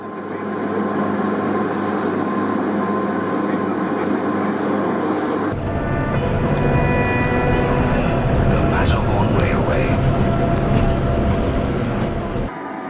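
A mountain train near Zermatt climbs toward the Gornergrat summit, rumbling steadily with a continuous mechanical drone, squeals and clatter, while a voice talks over it.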